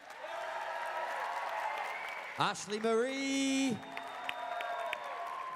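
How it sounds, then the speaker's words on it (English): Audience applause and cheering for YouTubers on stage at the Insomnia57 gaming event Q&A, a burst of clapping and whoops rising under a host's amplified voice announcing names. "Give yourselves a round of applause."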